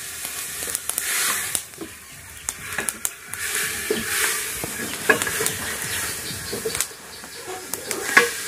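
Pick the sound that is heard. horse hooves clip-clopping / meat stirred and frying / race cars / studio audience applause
meat stirred and frying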